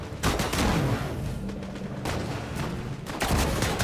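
Gunfire during combat in the video game Disintegration on the Romer Shoal level, rapid bursts of shots in three dense volleys separated by brief lulls, loud and close with no voices.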